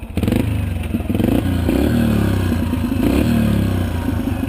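A Yamaha dirt bike engine drones loud and close while riding a Rocky Mountain trail, steady revving with clattering rattles throughout.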